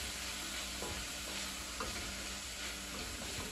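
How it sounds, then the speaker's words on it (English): Vegan spaghetti squash sauce with nutritional yeast stirred in a pan, a steady low sizzle under soft scraping and occasional clicks of the utensil, close and fairly quiet with no talking. "I'm going to give it a little stir."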